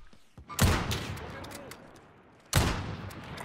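Two bursts of gunfire in a video game, one early and one later, each ringing out and fading, with faint voices in between.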